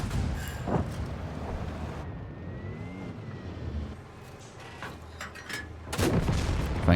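A tank cannon fires in World of Tanks as the player targets an enemy SU-8 self-propelled gun, with a heavy boom over engine rumble and battle noise.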